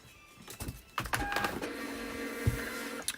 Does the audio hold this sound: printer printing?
yes